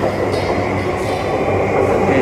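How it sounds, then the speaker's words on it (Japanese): A JR East commuter train, a Yamanote Line outer-loop service toward Shinagawa and Shibuya, pulls out of Takanawa Gateway station in Tokyo with a steady loud rumble of wheels and rail noise throughout, with faint clacking on top and no talk. "電車が出発していきました。"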